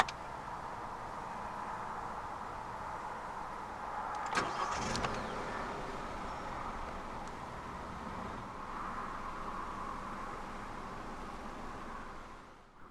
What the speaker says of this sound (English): to start the Picanto, put your foot on the clutch, insert the key into the slot right here, and twist the key